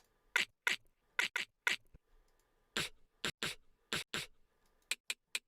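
A run of short, sharp mouth-made percussive hits, clicks and breathy snaps in an uneven beat, then three quick ticks at the end.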